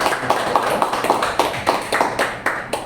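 Applause from a church congregation during a Sunday service, a small group clapping in loose, rhythmic bursts of distinct claps, close and moderately loud, with no voices.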